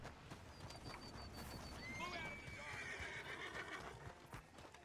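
A horse in Red Dead Redemption 2 whinnies in a high, wavering call over a busy background of clopping hooves and low ambient noise.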